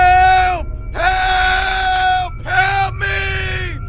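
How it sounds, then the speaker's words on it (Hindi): Drawn-out wailing screams from an old hospital, several long cries in a row with brief breaks, loud and near over a low background rumble. "जिस हॉस्पिटल में से किसी की चीखने चिल्लाने की आवाज आ रही होती है।"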